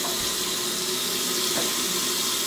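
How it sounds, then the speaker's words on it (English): Water runs steadily from a newly installed bathroom sink faucet, a continuous loud hiss and splash into the basin with no voices over it. "Water's flowing, clean water, no leaks."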